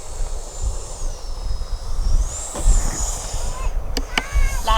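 Arrows RC Marlin (Avanti) model airplane taxiing and turning around on the ground, a steady engine whine that rises and falls in pitch over constant wind noise, ending in a few short sharp clicks.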